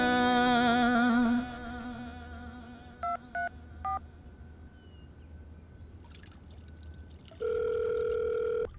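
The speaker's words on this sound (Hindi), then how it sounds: "ये बुढ़ऊ का फोन आ रहा है" Telephone tones sound: three short electronic beeps in a row, then after a pause a steady, loud tone, over a quiet background hiss.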